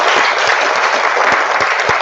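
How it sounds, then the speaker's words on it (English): An audience applauds panelists at an evening talk-and-drinks event on the sharing economy, a steady, dense wash of clapping that holds for two seconds without voices on top. "So a little round of applause for you."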